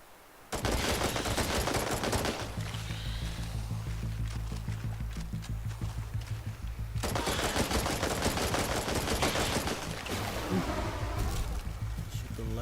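Sustained automatic gunfire in Chernobylite 2, loud dense bursts of rapid shots lasting several seconds each, close and continuous with a short lull between the two long volleys.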